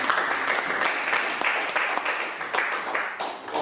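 Church congregation at an Easter celebration service applauding, dense continuous clapping with some voices mixed in, close and loud throughout.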